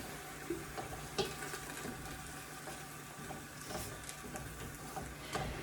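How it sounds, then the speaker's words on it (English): Browning 80-20 hamburger meat fries in a pot, giving a steady close sizzle with scattered crackles and pops throughout. "So I'm going to get this browned"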